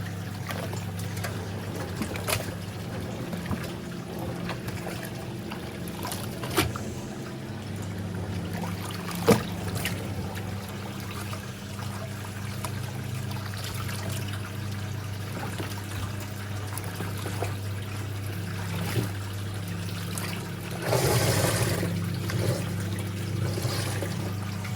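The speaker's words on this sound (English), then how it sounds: "Drain the wash tub." Water drains steadily from the wash tub of a Hitachi PS330P twin tub washing machine, a continuous low gurgling rush with a constant motor hum and occasional knocks, swelling louder near the end.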